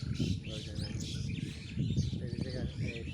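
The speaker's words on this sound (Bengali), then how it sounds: "আমার বন্ধু আবার পাখির কিচিমিচির ডাকও শুনতে পাইছে" Several birds chirping and squabbling close by outdoors, with quick bright tweets repeating over a rough background rumble and faint voices underneath.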